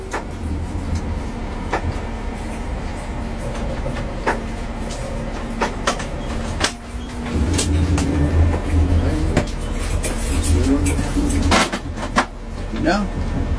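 An IC3 train rolls aboard a ferry with a steady low rumble, repeated clanks and squeals from wheels and couplings on the deck, and a heavier grinding surge partway through.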